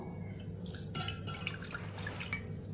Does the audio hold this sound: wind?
no